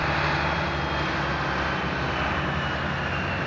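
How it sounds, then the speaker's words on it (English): A tractor at an outdoor equipment auction drives through mud, giving a loud, steady engine roar that stays near and constant throughout, with no voices over it. "There goes somebody very happy with the new tractor."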